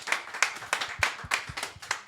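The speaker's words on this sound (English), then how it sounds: "Hey, a round of applause, please." Sparse audience applause at a fireside chat event, a few distinct hand claps in an uneven rhythm, fairly close and thin rather than a full crowd roar, with no talking.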